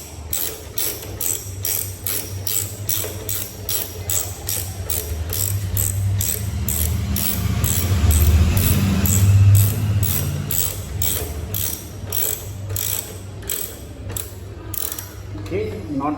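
A ratchet clicks in rapid, steady strokes while tightening a nut on the pillion footrest of a 2025 Royal Enfield Bullet 350, close and crisp over a low background hum.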